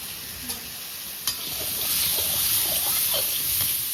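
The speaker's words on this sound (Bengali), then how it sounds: "আমটা হালকা করে একটু ভাজা ভাজা করে নেব" Mango pieces with turmeric and salt sizzle and crackle in a hot pan, with a couple of utensil taps and stirring as the frying noise swells slightly.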